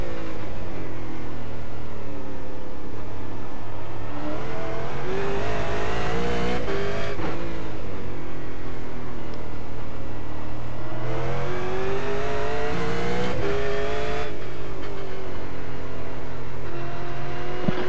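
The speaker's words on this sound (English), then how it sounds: "Get it into second and turn the car." A 600 hp V8 race car engine in the iRacing sim on the Oran Park go-kart track, revving up through the gears in repeated rising pulls with brief shift drops, loud and constant for the whole stretch.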